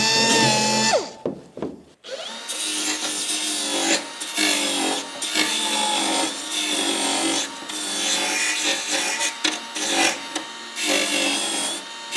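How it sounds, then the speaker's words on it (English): A small power sander works around the edges of vents on an RB200 build, giving a steady, close, continuous grinding rasp that holds with slight shifts in pressure, alone without talk. "Just got the little sander there. I'm going around like that."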